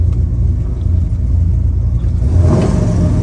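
A 1967 Pontiac GTO engine rumbling loud and close, a deep steady idle that swells slightly as the gas is pressed near the end, with no talking.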